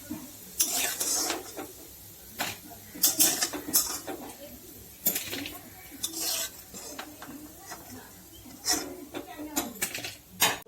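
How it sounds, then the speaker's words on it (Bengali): Fried red amaranth leaf fritters are lifted one by one out of a pan, with repeated close metal scrapes and clinks of a utensil against the pan, and a voice talking between them. "এই দেখুন বড়াগুলো ভালো করে ভাজা হয়ে গেছে একটা একটা করে তুলে নেব"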